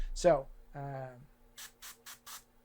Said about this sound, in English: always test spray on your hand there